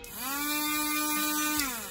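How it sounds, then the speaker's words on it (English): A small electric drill whines steadily while boring holes into Lego baby arms to fit micro magnets, a close, high, even motor tone that rises at the start and winds down near the end. "drilling holes out to insert micro magnets into those slots"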